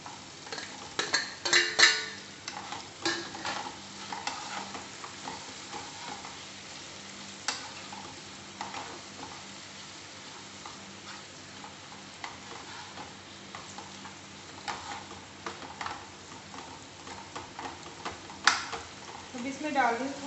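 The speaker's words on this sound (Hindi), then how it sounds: "अब इसमें ऐड करूंगी मैं अनियन" Chopped onions sizzle in a pan of masala lauki sabzi as a spoon stirs and scrapes against the metal, giving a low steady fry with intermittent clinks, while someone talks over it.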